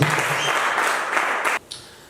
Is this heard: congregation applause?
yes